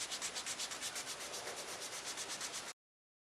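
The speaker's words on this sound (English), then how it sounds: "let's do some more sanding" Sandpaper rubs back and forth against a weathered wood dresser in a fast, steady rhythm, close and raspy, then stops abruptly into silence.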